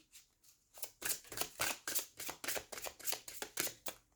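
A deck of cards is shuffled and a card drawn, producing a brisk run of crisp riffling flicks and snaps, close and fairly quiet, with no talking.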